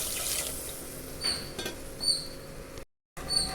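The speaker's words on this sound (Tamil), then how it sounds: "தேவையான அளவு தண்ணி சேர்த்துக்குவோம்." Water trickles and splashes into a pot of kara kulambu (tamarind curry), with a few brief squeaky clinks and a short gap of silence near the end.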